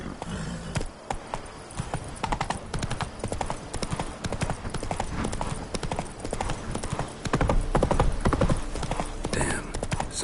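Roach, the horse in The Witcher 3 game, trots along with a steady, rhythmic clip-clop of hooves that carries through the whole stretch at close range, with some background game sound mixed in.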